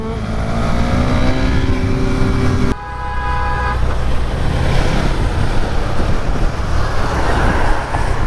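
A car carrying a fake BMW M badge sounds a horn toot, then its engine roars loudly in a sustained rev amid heavy street traffic noise. No one speaks.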